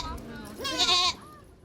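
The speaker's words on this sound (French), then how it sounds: "C'est une chèvre celle-là qui est spécialement tenue pour la viande." A Boer meat goat gives a single short, wavering bleat, close and fairly clear, rising out of quiet room tone.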